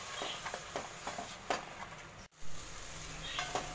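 Tomato puree fries in a pan for a mushroom masala curry with a soft, steady sizzle, broken by a few light scraping and stirring taps, a brief dropout in the middle, and no talking.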